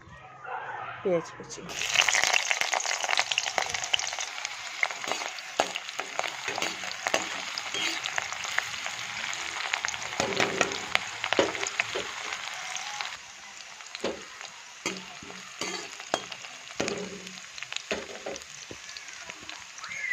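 Chopped onions drop into hot oil and fry with a loud hiss that starts abruptly, then settles into a continuous crackling sizzle, with stirring scrapes and a person speaking over it.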